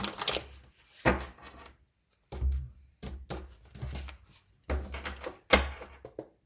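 Intermittent bursts of tarot cards being shuffled and riffled close by, several quick rustling runs separated by short pauses.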